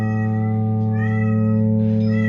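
A cat meows near a guitar amp and pedalboard, its brief tonal calls sitting over a steady loud hum and droning electric guitar tones with no talking.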